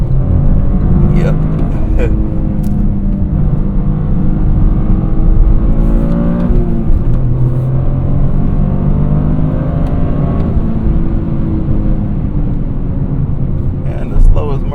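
Toyota GR Corolla accelerating hard while merging onto a highway from about 60 mph, with a loud, steady engine drone and rising revs heard from inside the cabin as someone talks over it.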